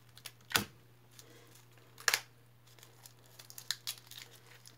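Hard plastic packaging around a candle being pried and handled, giving a few loud crackling snaps and scattered softer clicks and crinkles in a quiet room.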